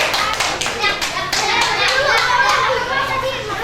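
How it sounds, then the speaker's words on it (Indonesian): A class of schoolchildren clapping together in an Indonesian classroom, a lively burst of hand claps that keeps going while the children chatter and call out around it. "Kita beri tepuk tangan dulu"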